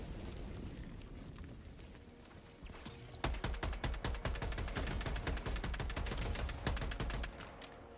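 Rapid bursts of gunfire in the video game Helldivers 2, laying down suppressive fire; dense, loud volleys begin abruptly after three seconds and continue steadily over a low rumbling background.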